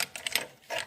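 A ratchet clicks in quick, close bursts, tightening a fastener during an axle shaft replacement on a Dodge Durango, with a brief pause between strokes.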